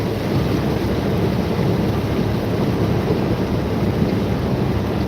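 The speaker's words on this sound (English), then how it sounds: "the raindrops are coming down so hard and so fast that it's hard to see half a mile in front of you" Heavy rain with rumbling thunder during a thunderstorm, heard from inside a truck on an American road; a dense, steady roar of downpour fills the whole stretch without a break.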